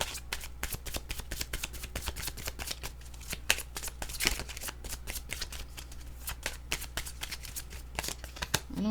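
Oracle cards being shuffled by hand for a card reading, a dense run of quick, crisp riffling flicks that continues steadily throughout, close and fairly quiet, with no talking.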